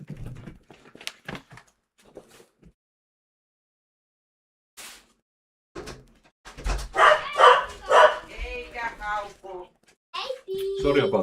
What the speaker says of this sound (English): Sorry about the dogs. They are always suspicious when someone comes